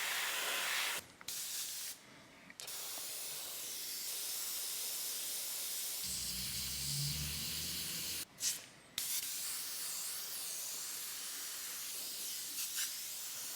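An airbrush sprays light grey paint to add definition to clouds, giving a steady, close, continuous hiss that runs almost unbroken, with a few brief dips where the trigger is eased off.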